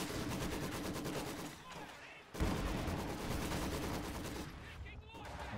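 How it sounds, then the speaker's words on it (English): Maxim machine gun firing in Company of Heroes 2, heard as dense, continuous bursts of rapid gunfire layered with other battle noise, briefly thinning before resuming loud and sustained. "I hear a Maxim firing in the back."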